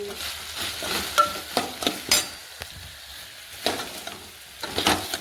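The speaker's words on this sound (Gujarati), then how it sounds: "મસ્ત મજાના ભીંડા નાખી એમાં નાખીશું આપણે હળદર નાખીને અંદર મીઠું એડ કરીશું. પછી મિક્સ કરી દઈશું." Okra seasoned with turmeric and salt sizzles in a pan while a spoon stirs it, sending out a steady frying hiss broken by several sharp scrapes and clinks of utensil against metal, close by, with no talking.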